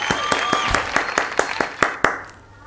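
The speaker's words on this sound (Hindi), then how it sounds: "एक बार तालियां बजा दीजिए।" Clapping from a small audience at a comedy show, about a dozen sharp, evenly spaced claps close by with faint background sound, ending abruptly after a couple of seconds.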